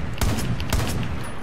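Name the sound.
sniper rifle shot in Far Cry 5 video game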